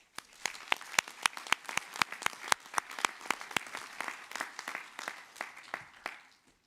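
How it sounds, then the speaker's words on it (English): Sustained applause from a crowd at a 2022 university graduate commencement, many hands clapping in a dense, steady patter that fades out toward the end. "You deserve a round of applause."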